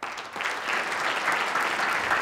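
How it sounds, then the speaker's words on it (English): Audience applause for the 2011 Lewis Hine Distinguished Service honorees at an awards event, steady and dense, swelling quickly and holding at full strength throughout. "I hope you will give a round of applause for 2011 Lewis Hine Distinguished Service honorees"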